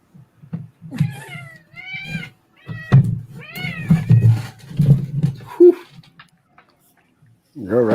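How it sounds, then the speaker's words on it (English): A house cat meows repeatedly nearby, a string of short, rising and falling cries with pauses between them, followed by a longer, louder wail at the end, mixed with low voices talking. "Your cat's trying to kill you tonight"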